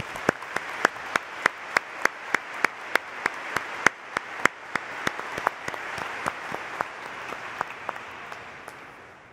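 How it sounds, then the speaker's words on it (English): Graduation ceremony audience at a high school applauding, a broad wash of many hands clapping with a few sharp, regular claps standing out, sustained and fading slightly toward the end. "let's give our biggest supporters a round of applause"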